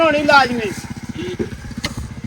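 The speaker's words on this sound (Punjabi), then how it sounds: "ਫੁੱਟਿਆ ਬੰਦ ਕਰ ਲਾ ਮੋਟਰਸਾਈਕਲ ਯਾਰ" A motorcycle engine idling close by in a village in Pakistani Punjab, a steady low putter beneath a voice talking over it.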